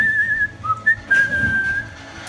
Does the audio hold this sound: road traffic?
no